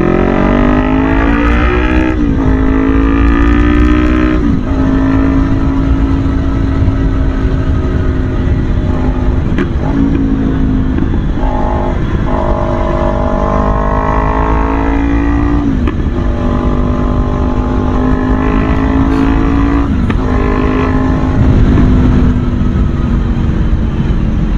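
Kawasaki Ninja 500 motorcycle engine under hard acceleration while riding, a loud, close drone that climbs steadily in pitch through each gear, with brief dips at several gear changes and steady wind rush throughout.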